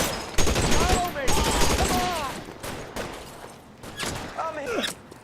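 Rapid bursts of Tommy gun fire rattle out in short volleys during a shootout in L.A. Noire, with gaps between the bursts and a game character's voice talking over them.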